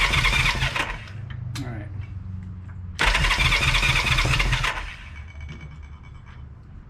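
A Honda CB350 motorcycle engine cranks over on its first start attempt, with two loud bursts of churning starter and engine noise separated by a quieter pause, while a voice speaks briefly.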